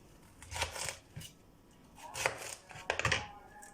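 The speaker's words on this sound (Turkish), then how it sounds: "ikiye doğruyorum ve çok ince bir şekilde doğruyoruz" A knife finely slices red cabbage for restaurant-style pickles, giving close, crisp crunching cuts in two brief clusters with quiet pauses between, no talk.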